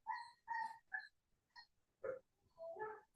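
A dog barks in a string of sharp, separate yaps and short whining yelps, about seven bursts across a few seconds, fairly faint and alone with no talking.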